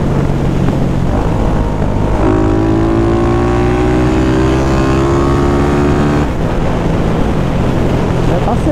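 A remapped 470cc motorcycle engine drones loudly and steadily close by, with a rising whine as it revs, over strong wind rush.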